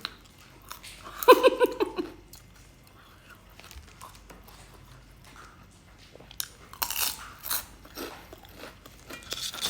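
Crunchy bites and chewing of raw vegetables, close and loud at first, then quieter mouth sounds and more crunching later, with brief soft vocal sounds between.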